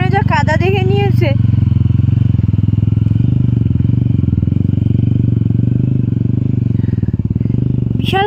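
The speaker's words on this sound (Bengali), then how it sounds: "বিশাল কষ্ট হয় কাদাতে বাইক চালাতে" A motorcycle engine thrums at low, steady revs while a rider pushes through deep mud on a mountain trail, close and continuous, with a brief voice-like warble at the start and a short chirp at the end.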